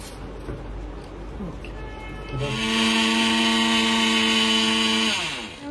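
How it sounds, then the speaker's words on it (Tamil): A kitchen mixer grinder pulverises soaked rice into fine flour for maavilakku, starting at about 2.4 seconds with a loud, steady motor whine that holds then winds down at the end, after quieter background noise at the start. "நல்லா எடுத்துட்டு அதை மிக்சியில போட்டு அரைச்சிடும்"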